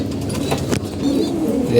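Feeding pigeons coo in a soft, throaty rumble, with a few calls overlapping nearby and a slight swell toward the end.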